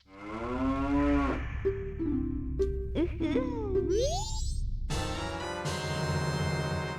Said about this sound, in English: A really uncomfortable noise for a cow to make.